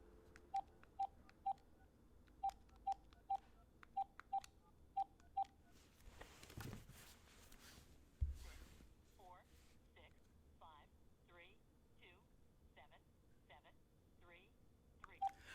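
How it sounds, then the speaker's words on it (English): Telephone keypad tones beep in two quick bursts of evenly spaced presses as a number is dialed, followed by a warbling ringback tone repeating in short pulses while the call connects. "I'm going to give someone else a call."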